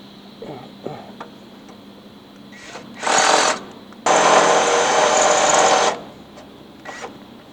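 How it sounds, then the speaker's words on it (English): Two bursts of a power drill boring holes into a metal cross member for a Jeep fender install, one short and one longer of about two seconds, with quiet workshop sounds and faint clicks between. "we're going to use it as a template to drill in the center of this cross member right here"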